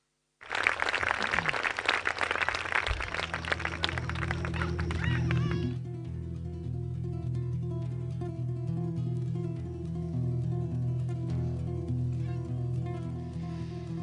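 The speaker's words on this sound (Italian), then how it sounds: "Parte la musica, parte l'applauso." Applause breaks out from a crowd at a Sardinian traditional costume parade, a dense burst of clapping that thins after several seconds while steady festive music carries on underneath.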